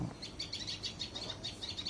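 A tailorbird parent calls from overhead in a rapid run of thin, high chirps that repeat steadily, moderately close and with no voices.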